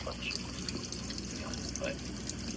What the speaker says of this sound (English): The water is moving a bunch.